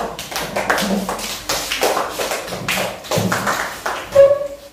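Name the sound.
class applause for group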